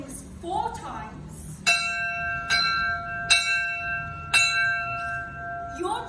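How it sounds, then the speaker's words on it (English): A bell rings out four times at a steady, even pace, each stroke clear and ringing with a long decaying tone, with some brief faint background sounds before the first stroke. "When the bell rings 4 times"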